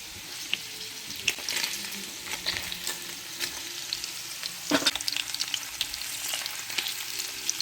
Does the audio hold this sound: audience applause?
no